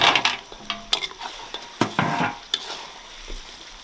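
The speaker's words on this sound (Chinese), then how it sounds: "把佐料都炒香之后，加入羊蹄蹄" Lamb trotters hit hot oil with chili bean paste, chili flakes, hotpot base and spices, sizzling loudly while a spatula scrapes and clanks against the wok in quick irregular strokes, close up with no talking.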